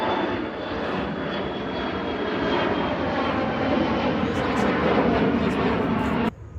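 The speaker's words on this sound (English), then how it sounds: "We had an airplane overhead" An airplane passes overhead outdoors, its steady engine roar broad and loud, building slightly before cutting off abruptly near the end, with no talk over it.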